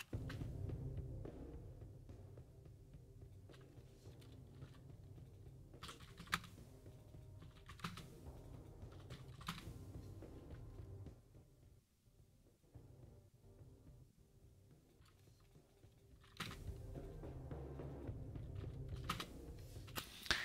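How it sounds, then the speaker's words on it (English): Faint, quiet keystrokes on a computer keyboard as values are typed, irregular clusters of clicks with a pause partway through, over a low hum. "So let me find a point and I will have to type them."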